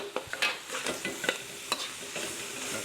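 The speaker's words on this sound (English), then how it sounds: "Next up, I'm gonna do a little bit more avocado oil because it kind of soaked it up. Going to add this garlic." Garlic hits avocado oil in a very hot wok, sizzling steadily with a spatula scraping and stirring in sharp bursts close by; no voices.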